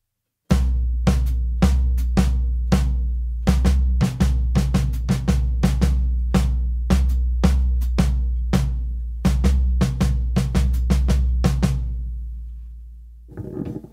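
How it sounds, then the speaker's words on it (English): Drum kit hands pattern of grouped strokes over a steady quarter-note hi-hat pulse, a string of sharp, close hits in an uneven rhythm played alone, with a ring-out near the end. "Only the hands with a hi-hat pulse,"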